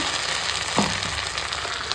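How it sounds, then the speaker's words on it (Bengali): Onions frying lightly in a pan of oil for a chicken and potato curry, a steady close hiss and sizzle with a brief stir clatter partway through, no talking. "তো দেখো এখন পেঁয়াজটা এরকম হালকা করে ভাজা হয়ে গেছে"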